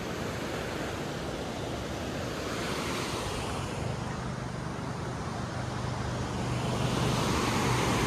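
A river rushes steadily beside a tent pitched near a roadside petrol pump on the route to Rudraprayag, a constant broadband roar of flowing water that swells slightly toward the end, with no talking.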